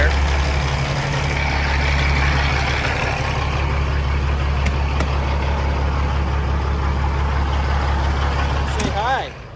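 A freshly overhauled 2014 Peterbilt Glider truck engine idles close by with a steady, loud diesel rumble that holds throughout, a faint metallic clank near the middle and a brief hiss right at the end.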